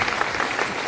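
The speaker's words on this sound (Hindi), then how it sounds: "जोरदार ताली" Loud, dense applause from a seminar audience at a business motivational talk, a steady wash of clapping hands filling the whole brief moment with no break.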